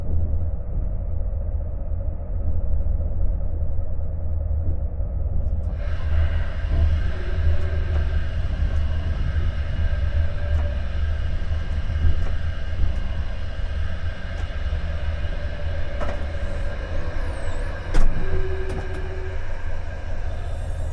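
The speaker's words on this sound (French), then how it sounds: "desservie régulièrement par des trains de wagons-citernes" A heavy freight train of tank wagons rumbles steadily past at close range in an industrial zone, a low continuous roar with occasional metallic squeals and clanks.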